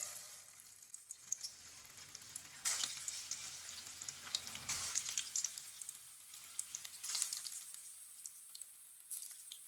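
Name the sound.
chicken and bitter gourd kebabs frying in hot oil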